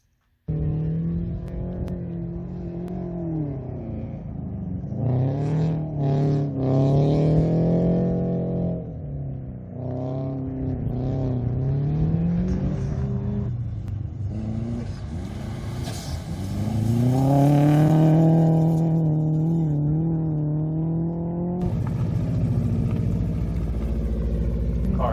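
Lancia Stratos rally car racing on a dirt course in an Arizona rallycross event, its engine revving and climbing repeatedly through the gears, with passes sweeping up and down in pitch and loud throughout.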